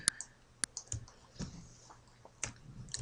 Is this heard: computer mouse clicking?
yes